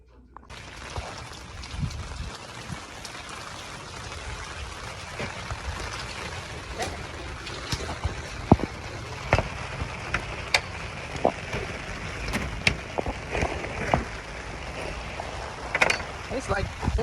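Heavy rain pours down in Florida, a steady broadband hiss with scattered sharper drips and splashes throughout.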